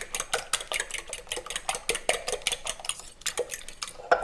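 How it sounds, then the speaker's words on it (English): Eggs whisked with a fork in a bowl for a Spanish tortilla de patata, a fast, steady run of close clinking taps of metal against the bowl, loud and continuous with no talking. "So we want to just whip these. You're not going to use a whisk, just use a fork."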